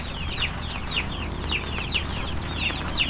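Young chickens on a farm give repeated high, chirpy clucks in a steady rhythm over a constant low background hum, fairly close and moderately loud.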